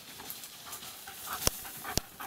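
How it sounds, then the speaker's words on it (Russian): A dog panting after running up on a forest shelterbelt walk, quick soft breaths close by with a couple of sharp clicks, fairly quiet. "Вот она, собака, прибежала."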